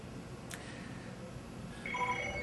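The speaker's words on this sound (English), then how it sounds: "Sorry about my phone. Somebody's trying to get a hold of me." Mobile phone ringing in an office setting, a faint electronic ring tone rising late in the clip over low background hiss.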